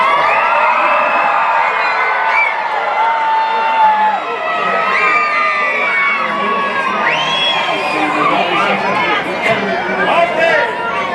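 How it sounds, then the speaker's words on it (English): A group of people, including children, cheers and whoops together in a lively, sustained crowd din with overlapping chatter while posing for a group photo. "Give yourselves a cheer."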